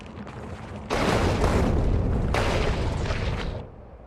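Artillery gun pits fire in Factorio, with heavy booming blasts in two loud bursts that crash and rumble, then cut off.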